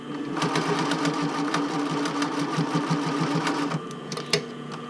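A home sewing machine runs steadily in a continuous burst, stitching the band of a classic bra after basting, with a slight change in motor pace near the end and a small click.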